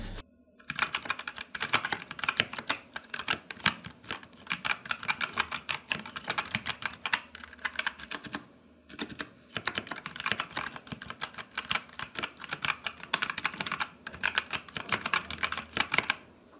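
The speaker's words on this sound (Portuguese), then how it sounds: "Aproveitando aqui para te mostrar um pouco do, do barulho das teclas" Rapid clattering of Redragon Kumara Pro wireless mechanical keyboard keys with brown switches, close and steady, typed in long bursts with brief pauses between them.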